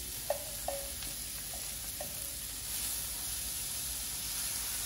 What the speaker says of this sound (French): Vous faites revenir tout doucement en fait